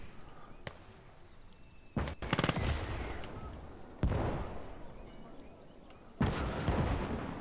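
A field gun fires in the strategy game Conquest Enhanced, three sharp booming shots a couple of seconds apart, each leaving a rolling tail, with a faint earlier crack and steady battlefield ambience underneath.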